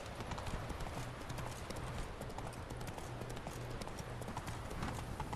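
Horse hooves clip-clop in The Witcher 3 video game, a steady, continuous rhythm of quiet hoofbeats with no break, set against soft background sound.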